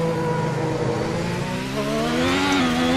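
A Ferrari SF70H Formula 1 car in Assetto Corsa at Suzuka revs hard through its gears, the engine note climbing steadily and whining loudly, close up and alone.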